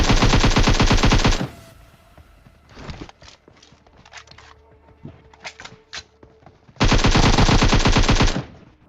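Automatic gunfire bursts in the PUBG Mobile battle royale game, a long loud rapid burst, a stretch of scattered footsteps and distant shots, then another loud sustained burst.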